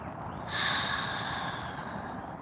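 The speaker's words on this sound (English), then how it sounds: "deep breath" A single long, deep breath drawn in slowly through the nose, close and clear, rising and then holding as a steady airy rush for about two seconds.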